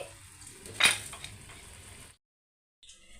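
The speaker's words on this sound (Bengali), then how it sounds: "এখন এই চালটাকে খুব সুন্দর করে এই মাংসের সাথে আমি কষিয়ে নিব" Polao rice stirred and fried with meat in a pot for tehari: a soft, steady sizzle broken by one sharp clink of a spoon against metal, then a short silence.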